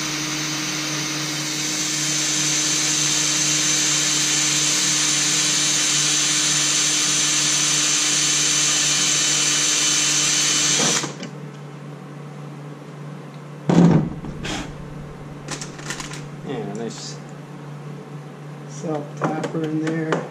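Power drill driving self-tapping screws into a flange on a CFMoto heater, a steady loud whirring drone that runs about eleven seconds, then stops abruptly, followed by scattered clanks and short bursts of tool noise.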